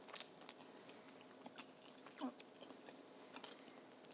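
Someone bites into and chews a crispy air-fried zucchini fritter up close; the quiet crunches and soft chewing come in a few irregular bursts with no speech.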